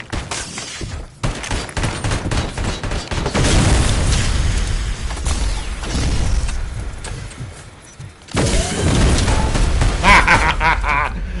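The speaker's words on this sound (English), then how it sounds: "Rocket launcher." Rocket launcher explosions in the video game Robocop: Rogue City, as a loud, nearly continuous barrage of heavy booms and rumbling blasts with a brief dip before another wave of detonations.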